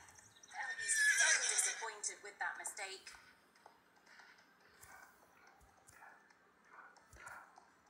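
A horse lets out a loud, shrill whinny up close, followed by softer snorts and a few hoof thuds as the animal settles.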